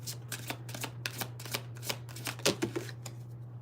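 A deck of tarot cards being shuffled by hand, with a quick run of crisp riffling slaps over a faint steady hum and no speech.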